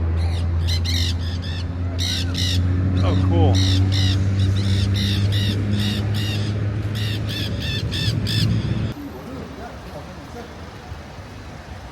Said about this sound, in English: Pretty sure those are parrots up there with the big nest.